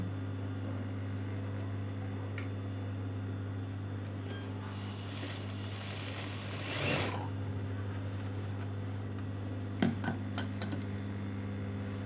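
A sewing machine stitches the back neck of a nurse uniform, a steady low motor hum running throughout, with a brief louder whir in the middle and a few light clicks near the end. No one speaks.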